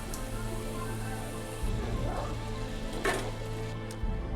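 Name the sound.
spinach bajji (fritters) frying in oil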